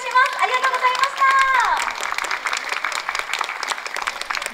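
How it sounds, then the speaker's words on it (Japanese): Audience applause after a live idol group performance at an event, with a voice and a few cheers at first, then steady crowd clapping that continues to the end. "皆様、今一度大きな拍手お願いいたします。"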